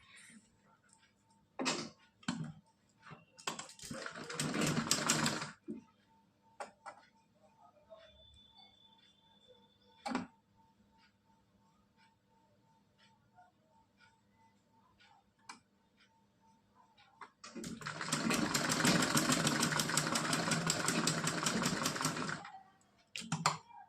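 A sewing machine stitches net fabric for a dress, running in two bursts, a short run early and a longer steady run later, with sparse clicks and handling taps in the quiet between them.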